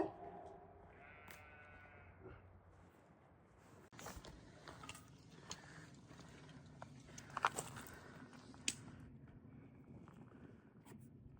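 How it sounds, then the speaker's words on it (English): Sheep bleat from a flock in an open field, faint and distant over a soft wind-like background hiss, with a few scattered bleats across the stretch. "Came up upon this field and there's just a bunch of sheep and a protective sheepdog."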